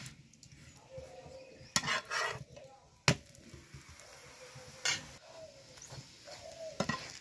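A semolina paratha frying in oil on a pan while a spoon spreads the oil, giving soft sizzling under sharp scraping and clinking taps of the spoon, close by.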